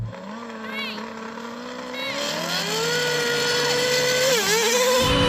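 A drag race between a 1200hp Lamborghini, a 1300hp GT-R NISMO and an F1 car. High-revving engines howl with rising, shifting pitch and grow louder toward the end.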